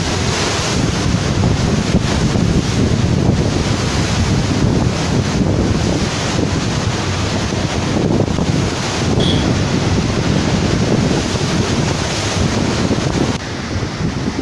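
Strong, steady Saba-Saba seasonal wind roars and buffets the microphone over Lake Tanganyika at Kalemie, DR Congo, with water churning underneath; loud and continuous throughout, with no voices.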